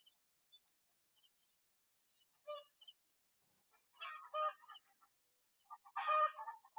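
Chickens cluck in a few short, scattered bursts at moderate distance, with quiet gaps between them and no one talking.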